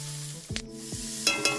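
Salt, turmeric and chilli powder sautéing in a pan for pasta, a steady hiss of frying under a few sharp spoon scrapes and clinks against the pan, fairly close and alone with no voices.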